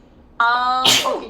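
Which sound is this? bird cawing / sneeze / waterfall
sneeze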